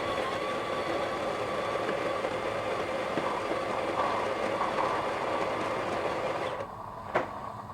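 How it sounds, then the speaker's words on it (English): A Miele 6350 espresso machine's steam wand pulses while frothing milk for a cappuccino, a steady loud hissing rush with a rumbling undertone that continues close up before dropping off near the end with a brief knock. "So we're pulsing to get the milk froth now."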